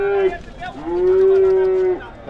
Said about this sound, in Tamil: காளை கண்ணு கொண்டு வந்திருக்காங்க